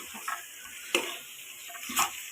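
Mutton legs stirred into frying curry in a pan, a soft sizzle under two or three sharp scraping clicks of the spoon against the vessel.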